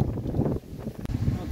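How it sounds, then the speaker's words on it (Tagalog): Strong wind at a mountain summit on a hiking trail blusters loudly against the microphone in rough, continuous gusts, with a brief dip and a short crackle partway through. "Sobrang lakas ng hangin."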